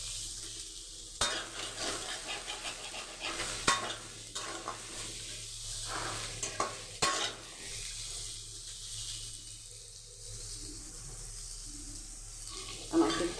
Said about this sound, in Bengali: এখানে ফুল ফ্লেমে দিয়ে আমি পটলটাও ভেজে নেব।